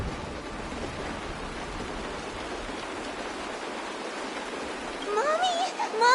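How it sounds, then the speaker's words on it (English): Steady rain in a video game, a broad hissing wash of falling water holding evenly throughout, with a voice briefly emerging near the end. "Mommy, the rain."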